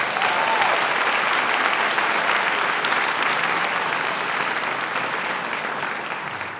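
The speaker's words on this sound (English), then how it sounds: "Let's give a big applause." An audience at an AAPI Heritage Month celebration in San Francisco applauds, a dense, sustained clapping from a large crowd that holds steady and fades slightly toward the end.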